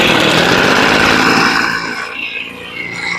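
Echo leaf blower with a freshly rebuilt carburetor running on choke after priming: a loud, raspy two-stroke engine drone that holds for over a second and then drops to a quieter idle.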